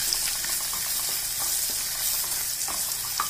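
Ginger, garlic and fennel seeds sizzle steadily in hot oil in a pan, an even close frying hiss with faint stirring scrapes, for a prawn Chettinad gravy.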